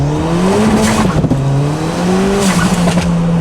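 A turbocharged small four-cylinder car engine making about 300 wheel horsepower revs hard in low gears while tires squeal and slip on the pavement, the pitch rising and falling across a few seconds.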